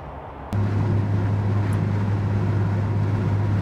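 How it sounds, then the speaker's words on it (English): An old car's engine kicks in abruptly and holds a loud, steady low drone with a deep hum, revving up and staying strong. "you can hear the engine getting it or not, but let me punch it."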